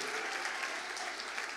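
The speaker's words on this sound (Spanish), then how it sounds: "Así que felicidades, date un aplauso." A church congregation gives a brief, dense round of steady applause, fairly quiet and continuous, with no speech over it.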